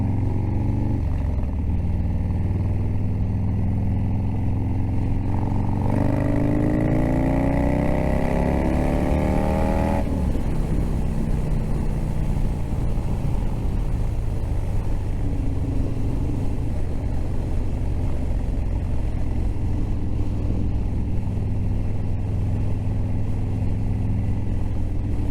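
Harley-Davidson Softail opened up to full throttle, a loud, steady engine roar that rises in pitch through the gears and then settles into a constant drone with wind noise.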